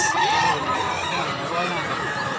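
Roosters and hens at a chicken market in Mantalungon, Barili, Cebu, crowing and clucking fairly close amid a busy crowd, with people talking over the birds throughout.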